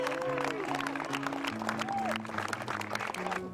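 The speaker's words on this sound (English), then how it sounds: "Round of applause." Applause from an audience honoring college lacrosse players at a team event, a steady wash of clapping throughout with a voice and tonal sounds layered over it.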